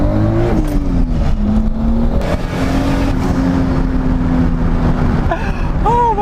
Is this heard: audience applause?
no